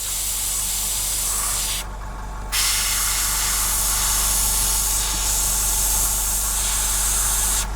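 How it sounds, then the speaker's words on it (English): A loud, steady hiss of spray paint from a nearby can onto a 1/48 scale F-14D Super Tomcat model kit, breaking off once briefly before continuing without pause; no one speaks. "because we spray this nice clean fresh paint"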